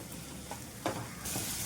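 Chopped tomato is stirred into a pan of frying dried shrimp, giving a soft, steady sizzle with a brief scrape of stirring midway and the sizzle rising toward the end.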